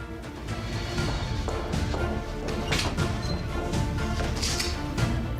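A door being forced open during a tense scene in the Turkish drama Hercai, dubbed in Urdu: loud, repeated crashing and thudding blows over a dense, continuous background lasting several seconds.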